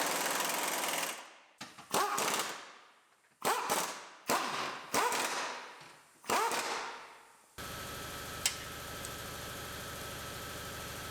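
An impact wrench tightens bolts during a steering rack and pinion replacement on a Dodge Journey: about six loud, close rattling bursts, each a second or so long, separated by short pauses, followed by a quieter steady background hum.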